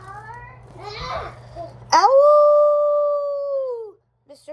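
A voice imitates a beast howling: one long, drawn-out tonal howl that falls at the end, loud and close. It follows brief read-aloud talk, with a short murmur after it.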